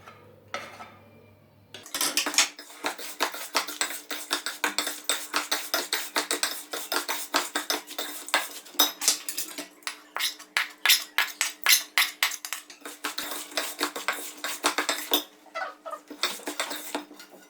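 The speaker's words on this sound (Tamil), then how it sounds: "இப்போ பாவை ஊற்றி நல்லா கலந்துக்கலாம்." Wheat laddu mixture with cashews being mixed with sugar syrup in a pot, a rapid run of clinking and scraping strokes of a spoon against metal, close and fairly loud, with no voices.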